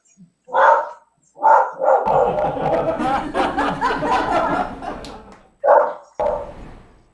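A dog barks in short sharp bursts at a live comedy show, with several distinct barks over a stretch of crowd noise and laughter from the audience in between.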